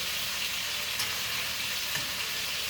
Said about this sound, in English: So these are browning. I'm just turning and turning them